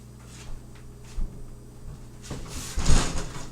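A door is pushed open and then kicked shut at an indoor entryway: a few soft knocks and shuffles lead into a louder, rattling bang near the end, with no voices.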